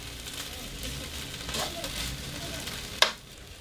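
Already-cooked chiles grill in a pan with a quiet, steady sizzle, crackling throughout and finishing with one sharp pop near the end.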